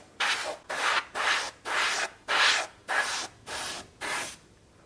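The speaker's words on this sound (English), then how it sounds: "I'm going to do the same thing with the paint in the airbrush, radiating out from that corner" Airbrush spraying paint onto a diorama building, radiating out from one corner: eight separate hissing bursts of about half a second each, evenly spaced, fairly close and steady, with no voices.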